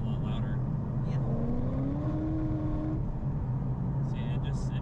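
Steady engine drone from a 638-horsepower Chevrolet Corvette ZR1, with a rising tone as the exhaust valves open and it grows louder, while people talk over it.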